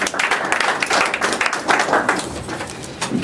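A church congregation applauds in praise, a dense, continuous wash of clapping that swells and fades in waves throughout.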